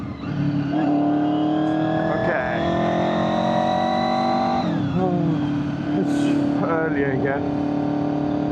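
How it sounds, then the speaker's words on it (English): Honda VFR800 motorcycle engine running on the road, a loud, steady drone that shifts pitch as it changes speed, heard close up with a person talking over it. "I think the bike is now fixed and running smoothly."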